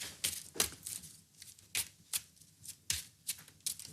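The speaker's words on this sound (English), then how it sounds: "give it a shuffle, go on." A deck of playing cards gets shuffled in a series of quick riffling bursts, each a short crisp flutter, close by and fairly quiet.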